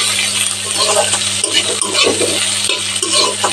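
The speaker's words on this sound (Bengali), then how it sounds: "নেড়ে দিচ্ছি পেঁয়াজ কুচি হালকা ভেজে নেব" Chopped onion frying lightly in a pan while being stirred gives a continuous close sizzle with irregular scraping and stirring noises, fairly loud and steady.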